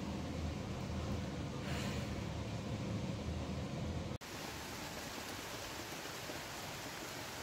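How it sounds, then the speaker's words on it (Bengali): Light drizzling rain at home, heard as a steady, even hiss that continues throughout and changes abruptly in character partway through. "সেই বৃষ্টি না, টিপ টিপ বৃষ্টি"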